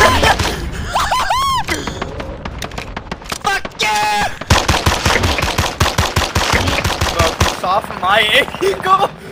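Rapid automatic gunfire and single shots from a Call of Duty match, loud and dense bursts through most of the stretch, with excited shouting voices mixed over the shooting.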